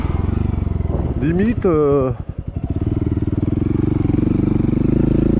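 A 2018 Honda Monkey 125 motorcycle runs with a steady, buzzing single-cylinder drone. The engine revs up and shifts through the gears partway through, and a rider speaks briefly over the engine note.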